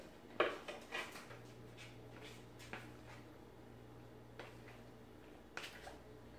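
Ground beef and casserole ingredients being stirred together in a bowl for a sloppy joe casserole, with clattering utensil scrapes and knocks, loudest near the start, then sparse light taps over a low steady hum.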